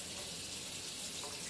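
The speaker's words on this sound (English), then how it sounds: "Now for a mouthpiece, I'll come in here and use water" Tap water runs steadily into a sink while a brass instrument mouthpiece is rinsed, a continuous close hissing splash with no talk.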